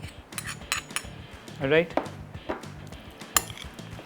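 Metal utensil scraping and clinking against a bowl while chicken is mixed with mustard paste, peri peri seasoning and marinade, in brief irregular taps with a short louder scrape midway; a voice speaks briefly.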